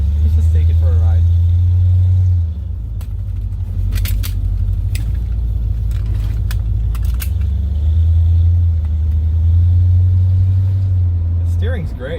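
A car with a freshly rebuilt steering column, leaking fluid, driven on a test ride; a steady low engine drone runs throughout, swelling and easing as it pulls away, with a few clicks and knocks over it.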